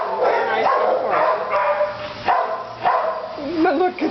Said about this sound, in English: These are the two girls, the puppies, at East Van Nuys, California.